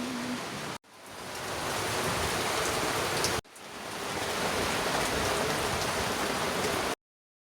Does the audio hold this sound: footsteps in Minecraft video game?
no